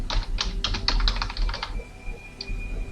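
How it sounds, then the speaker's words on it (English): Quick run of keystrokes on a computer keyboard, about a dozen crisp close clicks in a brisk burst, then a lone tap after a short pause. "within these layers, I want to type in be still."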